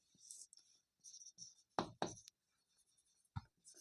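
A pen scratches across paper in short strokes during a math lesson, with a few quick taps and scribbles separated by pauses, faint and close.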